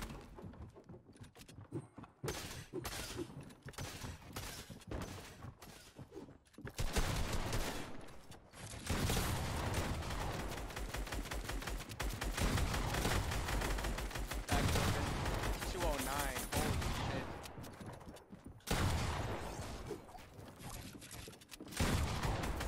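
Sustained LMG machine gun fire during a Fortnite firefight: long stretches of loud, dense automatic fire with brief gaps between bursts.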